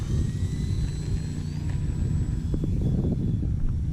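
A Hobbyzone Carbon Cub S2 RC airplane flies on an electric motor, a steady buzzing drone over loud wind noise throughout, with no voices.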